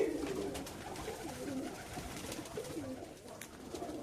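Pigeons in breeding cages coo repeatedly in soft, low rolling phrases, continuous and fairly close, with no talking.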